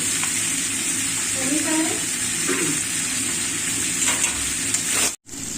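Fish coated in masala frying in a pan, with a continuous hissing sizzle and occasional stirring clinks. A faint voice sounds briefly underneath, and the sound cuts out abruptly near the end.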